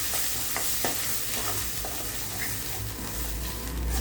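Mint paste being stirred and mixed in a pan, a steady sizzling, scraping texture with soft spoon knocks, close and continuous with no voices.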